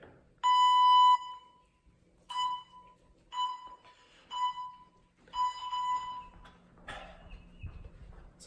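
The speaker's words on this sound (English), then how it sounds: "I'm gonna go ahead and set up the timer here" A basic workout interval timer beeping: one long, loud electronic tone, then several shorter evenly spaced beeps at the same pitch, ending in a burst of rustling noise.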